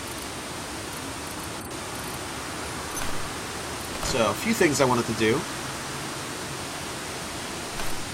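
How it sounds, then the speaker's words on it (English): Steady broadband hiss of rain falling in the survival game Planet Nomads, loud and constant throughout, with someone talking over it partway through. "it's starting to rain loud here"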